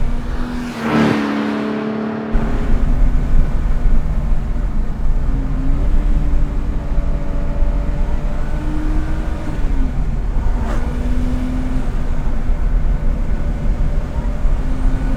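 A turbocharged 600 hp 1974 BMW 2002 with a hot-rodded M3 engine drones loudly from inside the car, its engine pitch shifting with gear changes as it downshifts.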